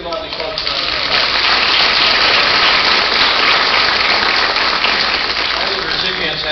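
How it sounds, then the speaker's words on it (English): Sustained applause from the audience at a school board meeting honoring student award recipients, loud and steady throughout with a dense wash of clapping and no gaps. "Let's give all these folks a round of applause."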